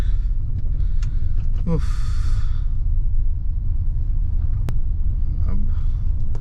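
Car cruising slowly along a tilted, hilly mountain road near Dehradun in light drizzle, a steady low rumble of the engine and road noise throughout, with a sigh and brief voices over it.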